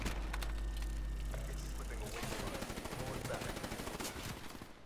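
Rapid automatic gunfire from the video game Call of Duty: Black Ops III, loud and dense throughout, shifting from a heavy low rumble of bursts to a faster rattle of crackling shots.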